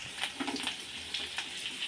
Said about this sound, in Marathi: तेलामध्ये जिऱ्याची फोडणी करायची आहे